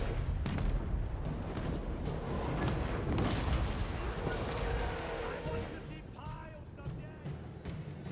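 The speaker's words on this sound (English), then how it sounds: "Meanwhile, we are pounding the enemy with artillery." Artillery pounds away in a Total War: Warhammer 3 battle, dense repeated booms and blasts layered over a continuous battlefield din, loud and close, with someone talking over the barrage.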